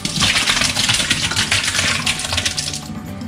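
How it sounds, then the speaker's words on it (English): Pieces of northern pike being rinsed under running water, a close hiss of a tap stream splashing and gurgling over the fish in a sink, continuous and fairly loud. "So let's rinse these off and we'll add the vinegar."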